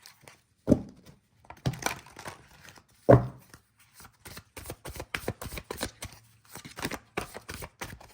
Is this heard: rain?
no